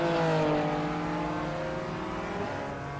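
A BMW race car engine in the iRacing simulator, held loud and steady on throttle with a continuous rising, harmonic-rich drone close up and no break for the whole stretch.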